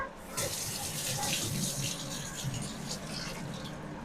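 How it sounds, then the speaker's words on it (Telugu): Water running from a kitchen tap during hand washing, a steady close splashing stream that starts abruptly after a short pause and continues to the end. "ఇప్పుడు హ్యాండ్ వాష్ అయితే చేసుకోవాలి"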